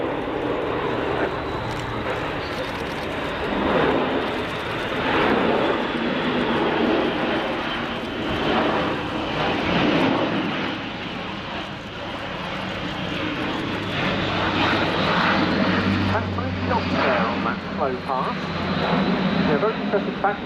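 Airbus A400M Atlas military transport plane during an airshow flying display at RAF Fairford, a steady loud propeller-engine roar rising and falling across the whole stretch, with a voice talking over it.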